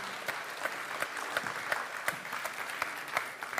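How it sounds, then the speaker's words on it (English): Award show audience in Brussels claps for a winner, a modest, fairly quiet round of applause with distinct individual claps popping out over a softer background patter. "Big round of applause, ladies and gentlemen"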